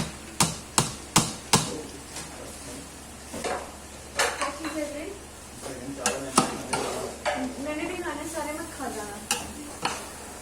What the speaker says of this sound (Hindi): बस इनको अच्छे से हिला लें, अच्छे से मिक्स कर लें चावलों को।